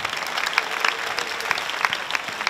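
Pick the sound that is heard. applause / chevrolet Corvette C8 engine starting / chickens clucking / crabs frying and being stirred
applause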